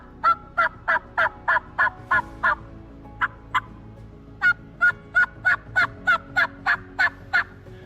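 A turkey call imitates hen yelping in the woods. A near, loud series of evenly spaced yelps runs in two bursts, seven notes, then a short pause, then about nine more, alone with no talk.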